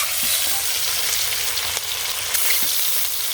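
Eggs being mixed into a hot frying pan in a village kitchen, giving a steady close sizzle with faint scraping stirs, no talking.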